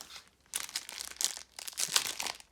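Plastic wrapping from a Pokémon Battle Styles card booster pack crinkles and crackles in close, bursty handling over a few seconds, with short pauses between rustles.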